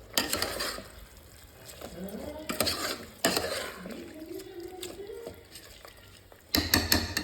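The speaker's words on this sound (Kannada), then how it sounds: "ಚಿಕನ್ ಬೆಂದಿದೆ, ಅಕ್ಕಿ ಹಾಕಿದ್ದೀನಿ, ಸ್ವಲ್ಪ ಚೆನ್ನಾಗಿ ಮಿಕ್ಸ್ ಮಾಡ್ಕೊಳ್ತೀನಿ" Chicken and rice for biryani being stirred in a metal pot, with scraping clanks and knocks of the spoon at irregular intervals, fairly soft, with faint voice-like sounds in between.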